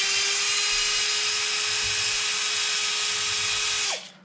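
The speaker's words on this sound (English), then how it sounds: "I've got to take out the motor screws because I'm re-gearing it." A power drill backs motor screws out of a Traxxas X-Maxx RC truck, giving one steady, high-pitched whine for about four seconds before it winds down and stops.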